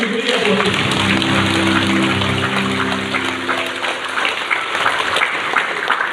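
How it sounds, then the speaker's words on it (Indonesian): Congregation clapping in an Indonesian church service, a dense, loud wash of hands that carries on steadily throughout, with a sung or spoken voice tone briefly audible underneath at the start. "Berikan tepuk tangan yang mulia buat Tuhan."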